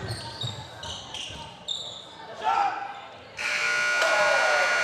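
A buzzer sounds at the end of a boys varsity high school basketball game against Westhill. It is a loud, sustained tone in the final seconds, heard over crowd noise.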